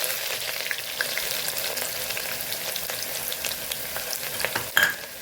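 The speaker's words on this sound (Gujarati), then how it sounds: "ડુંગળીને આપણે સરસ સાતડી લેવાની છે" Onions sautéing in oil with curry leaves for Kathiyawadi khatta moong give off a steady, close frying sizzle with light stirring scrapes and a brief clink near the end, no voices.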